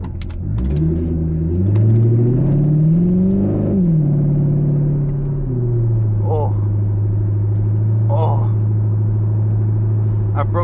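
A C5 Corvette accelerating hard at night and briefly breaking traction: a loud, close engine climbs in pitch through a rising rev, drops back, then settles into a steady low drone with faint crackles.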